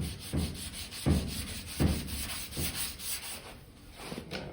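Sandpaper is rubbed by hand over the quarter panel of a 1968 car, making rhythmic, gritty back-and-forth strokes about every second, close and fairly loud with no voices.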